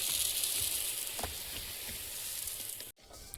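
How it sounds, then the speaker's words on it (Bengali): Mung dal toasts in a hot pan with a continuous dense sizzle and crackle, close and steady, punctuated by faint scraping stirs before cutting off abruptly near the end. "মুগ ডালটা ভেজে নেব।"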